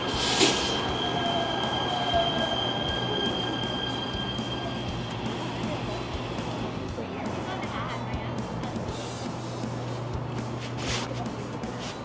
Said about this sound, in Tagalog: tingnan yung mga train guys